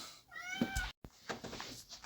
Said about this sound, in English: here's my screaming kitty.